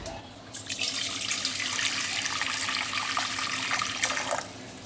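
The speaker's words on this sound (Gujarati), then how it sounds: "હવે તેની અંદર આપણે ગરમ પાણી લઈશું" Hot water poured into a cooking pot for dhokla batter, a steady splashing, gurgling stream running close by for several seconds before easing off.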